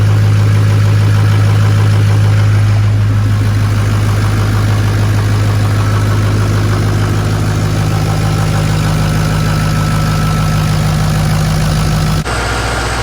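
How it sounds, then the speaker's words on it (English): A Ford 6.0L Power Stroke diesel truck fitted with a loud aftermarket turbo idles close by, a steady, heavy, droning rumble with a constant whine that holds unchanged throughout. "I know it's loud, guys. Bear with it because I'm not turning the truck off right now."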